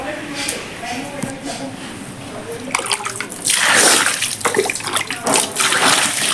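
Water splashes and sloshes as someone washes their feet outdoors, with irregular splashes that grow louder partway through. People talk over the water sounds.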